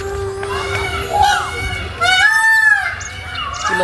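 White peacocks at a zoo call out in loud, rising-and-falling wails that stand out over a busy crowd of chattering visitors and children.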